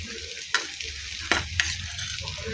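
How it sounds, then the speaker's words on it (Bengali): Spice masala for stuffing bitter gourd sautéed in a pan, a continuous close sizzle broken by a few sharp clicks of the spoon against the pan, with no voices. "ভালো করে মশলাটা আমি কষবো।"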